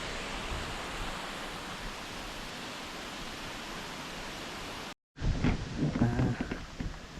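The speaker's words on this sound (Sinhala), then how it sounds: "ඇල්ල වැටෙන තැනටම ඇවිල්ලා ඉන්නේ" Falling water at Upper Bambarakanda waterfall in Sri Lanka roars as a steady, loud broadband rush for about five seconds, then cuts briefly before noisier, uneven sound resumes with faint voices.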